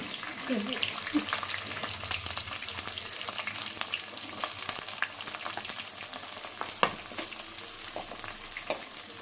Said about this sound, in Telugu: ఉల్లిపాయలు వేసేస్తున్నా.